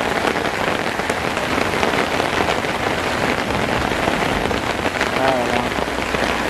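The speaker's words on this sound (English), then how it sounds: "We're getting a lot of rain too," Heavy rain pours steadily around a hammock campsite during a late-night thunderstorm, a loud, dense, unbroken hiss that stays close and constant throughout, with no thunder clearly standing out.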